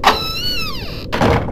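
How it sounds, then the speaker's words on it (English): A door creaks slowly open in the horror game Nanashi no Geemu: Me, a long, close, descending tonal groan over about a second, cut by a short pause and then a dull thud of low noise. "Oh, that door's begun to now swing open."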